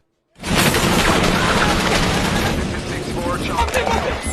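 Loud, dense gunfire during a firefight, with continuous overlapping shots and booms bursting in abruptly and rolling on without pause, mixed with chaotic background noise.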